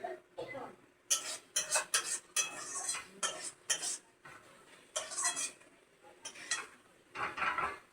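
Poppy seed curry being sautéed and stirred in a pan, with repeated loud metal scrapes and clatters in uneven bursts, close by, and a faint sizzle between strokes.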